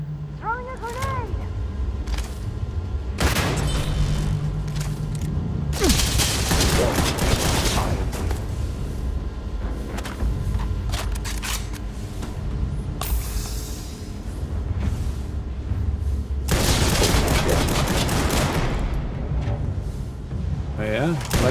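Grenade blasts and gunfire from a Starfield space combat battle, dense and continuous with bursts of shooting and heavy booms, under game dialogue and voices throughout.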